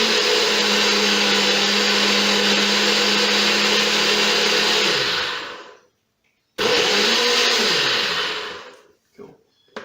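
Blender whirring loudly at a steady high pitch while making a recovery smoothie, then cutting off, restarting briefly and winding down in short bursts.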